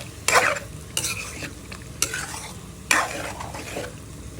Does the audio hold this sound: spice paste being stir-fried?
yes